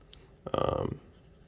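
A Blackwing Pearl soft graphite pencil scratches across Maruman croquis sketch paper in one brief, close, steady stroke lasting about half a second, with quiet room tone before and after.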